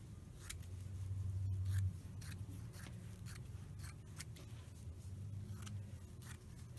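Scissors cutting fabric for a crazy quilt, a series of close crisp snips and slicing strokes with a low hum beneath, no speech.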